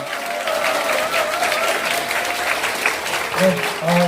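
An audience at a Jeju town hall meeting with Lee Jae-myung applauds, a dense steady clapping from a large crowd sustained for several seconds, with faint tones and voices near the end.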